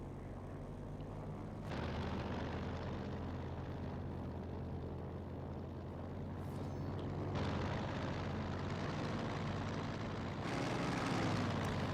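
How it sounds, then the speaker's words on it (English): Soviet IL-2 recon plane flying over in the Company of Heroes 2 video game, a continuous propeller engine drone that swells and shifts through the clip over dense battle background noise, with no talk. "That's the recon IL-2 just going for a little flyabout here."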